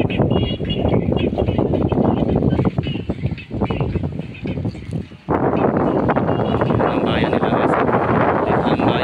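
Strong sea wind on the coast at Santa Fe, Romblon, buffets the microphone throughout, a constant loud roar with a brief lull midway before gusting back in full force.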